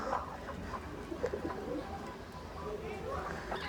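Pigeons on a farm coo softly in low, rolling murmurs, a few overlapping calls close by amid faint background rustle.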